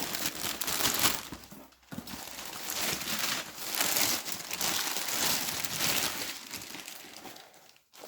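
Paper crinkles and crumples steadily as a well-packed parcel is unwrapped, close and continuous with brief pauses, no talking.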